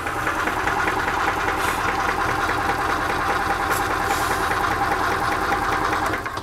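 A 2005 EZ-GO TXT gas golf cart engine cranks and runs at full throttle, a steady, loud, rough mechanical drone with a knocking vibration that holds for several seconds without talk.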